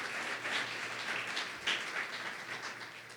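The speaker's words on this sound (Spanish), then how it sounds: "¿Qué le parece si le damos un aplauso a todas las personas que nos escuchan a través de la iglesia en línea?" A church congregation applauds listeners joining online, a steady, moderately quiet wash of many hands clapping, continuous for the whole stretch without any speech over it.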